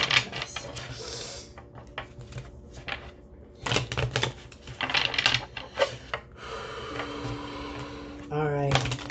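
A deck of tarot cards is shuffled by hand in a series of brisk, irregular papery riffles and clicks, some louder bursts between quieter stretches, with faint voices in the background.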